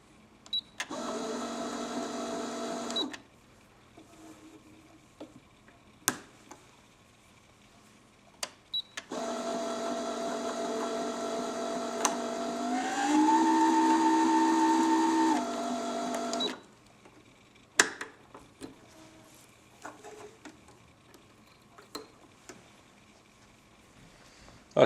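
A Brother NV10 sewing machine winds a bobbin in two bursts of steady electric whirring, the second longer and rising in pitch as it speeds up, separated and followed by soft clicks and handling sounds nearby.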